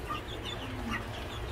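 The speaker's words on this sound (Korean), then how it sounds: "토종닭 네 마리" Korean native chickens freshly placed in a coop cluck softly and steadily, alone and close by, with no talking over them.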